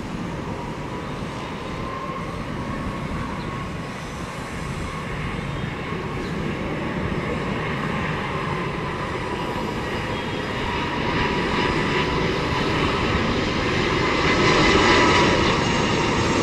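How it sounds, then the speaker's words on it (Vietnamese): A Cathay Pacific Airbus A330-300 arriving from Hong Kong lands on runway 25R at Tan Son Nhat airport, its loud, steady jet roar filling the whole stretch and swelling slightly toward the end. "Ngay sau khi chiếc Airbus A319 này cất cánh thì chúng ta sẽ tới với đường băng 25 phải Airbus A330-300 của Cathay Pacific."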